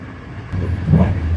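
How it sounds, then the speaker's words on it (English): An Italian Trenitalia train running along its rails at speed, a steady low rumble that swells slightly partway through, heard from on board with no talk. "This train actually moves rather quickly"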